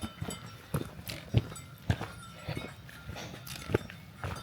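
Cows wander beside a hiking trail through grazing land in South Sulawesi, giving irregular soft hoof thuds and rustles at close to mid distance, with faint background noise and no talk.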